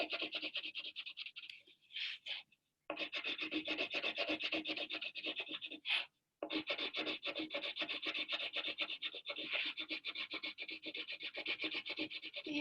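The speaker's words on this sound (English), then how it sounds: "get your blue crayon and color in those numbers on your number line" A crayon rubs rapidly back and forth on paper as numbers on a number line are colored in, a close, raspy scratching that runs almost continuously with two brief pauses.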